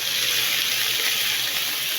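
Sprite pours steadily into a pan of buttered shrimp, a soft continuous hiss and splash with no breaks.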